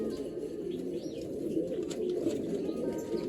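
Domestic pigeons cooing in a pigeon loft, low soft repeated coos continuing throughout at close range, with faint chirps above.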